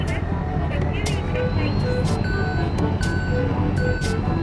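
Reversing beeps from an Isuzu truck in Farming Simulator 19 sound in a regular repeating pattern over engine rumble, while someone talks loudly over them.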